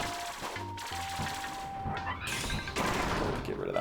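Repeated gunfire-like blasts and crashes from a Shotzo cannon in the video game Kirby's Return to Dreamland, dense and loud over busy game music, with the bursts growing heavier toward the end.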